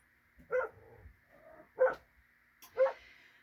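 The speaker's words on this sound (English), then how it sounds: "And that would be Joey barking at the sheep again" A dog barks at sheep three times, spaced about a second apart, loud and fairly close with a slightly hoarse edge.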